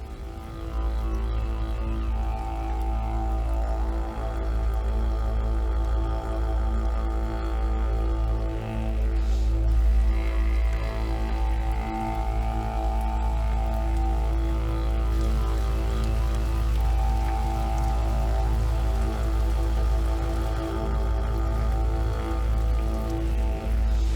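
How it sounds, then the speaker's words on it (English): Heavy rain pours down in a deep remote canyon, a dense, constant roar of drops hitting rock and water, loud and unbroken throughout with no voices. "The sky had turned grey and it had begun to bucket down with rain"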